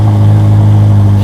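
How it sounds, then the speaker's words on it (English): A Ferrari SF90's 4-liter twin-turbocharged engine bursts into life, a loud, steady low idle drone with strong harmonics holding evenly for a moment before easing off, with nobody speaking. "Then that 4-liter twin turbocharged engine will jump up into life."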